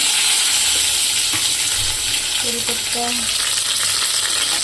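Curry leaves and spices crackle and sizzle in hot oil for veg fried rice, a loud, steady frying hiss throughout with a few small clinks near the end.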